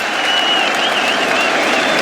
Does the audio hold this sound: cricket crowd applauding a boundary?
yes